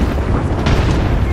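Grenade explosion in Apex Legends video game, a loud close blast with sustained rumbling roar across a brief moment.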